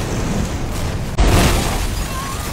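A time bomb explosion in a crime film: a sustained roaring blast with a sudden heavy boom partway through, loud and dense, continuing as a rumbling wash to the end.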